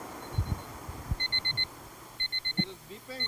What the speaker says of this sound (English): You hear this beeping?